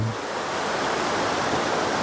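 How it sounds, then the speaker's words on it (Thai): A steady, dense rush of a high-flowing forest stream in Khao Soi Dao Wildlife Sanctuary, Thailand, constant and fairly loud throughout with no pauses. "ลำธารก็สวยแล้วน้ำเยอะอยู่นะตอนนี้"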